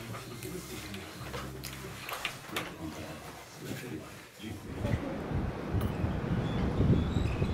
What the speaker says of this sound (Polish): Ale wiatr.